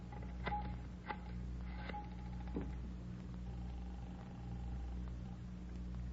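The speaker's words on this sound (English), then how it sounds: "Could I use your phone, Miss Waters?" Telephone dialing effect from a 1949 NBC radio crime drama, with a few short rotary clicks and tones over a steady low hum, followed by a faint sustained tone like a line signal.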